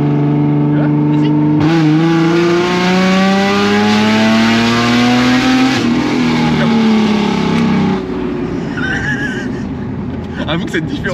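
A BMW E36 325i with a new stainless steel exhaust manifold revs hard, a loud, close engine roar that climbs and holds for several seconds, then drops back to a rough idle while a voice talks over it.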